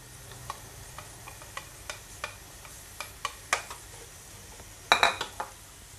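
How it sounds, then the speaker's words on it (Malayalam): Onion goes into a pan of Travancore chicken curry, with a soft sizzle under repeated metallic clinks and scrapes of a spoon against the pan, ending in a quick cluster of louder knocks. "ഈ സമയം കൂടെ നമുക്ക് ഉള്ളി ചേർത്ത് കൊടുക്കാം"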